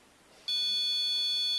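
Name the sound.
REM pod ghost-hunting device beeping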